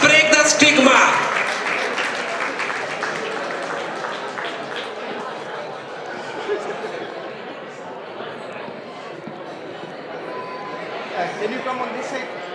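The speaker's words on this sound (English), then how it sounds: "Have a round of applause for Sandy Dosanjh" Audience at a mental health awareness fundraiser applauding, loud clapping at first that thins into scattered claps and crowd chatter, with some talking over it.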